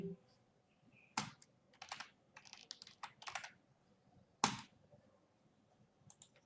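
Bursts of typing on a computer keyboard entering text into a text box, with short clusters of quick key clicks separated by pauses and one sharper isolated tap, fairly quiet and close.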